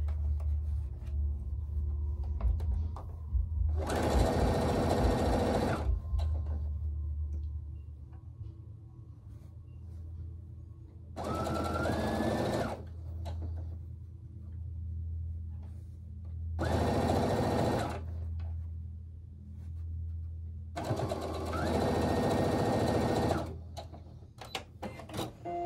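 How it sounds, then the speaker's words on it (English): A sewing machine stitches a quilt block seam in four separate bursts of rapid, close mechanical whirring, each lasting a second or two, with quiet pauses between them. "So let's get the bottom one sewn on."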